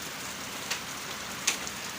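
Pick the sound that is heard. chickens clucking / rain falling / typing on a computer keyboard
rain falling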